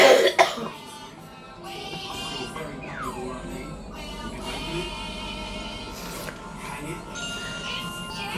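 A single sharp cough at the start, close and loud, followed by a quieter stretch with faint tinkling and background sounds.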